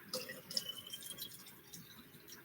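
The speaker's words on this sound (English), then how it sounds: "I know it seems silly putting it from one spray bottle into the other" Water poured from one spray bottle into another, faint trickling and dripping close by with small splashes, quiet and alone.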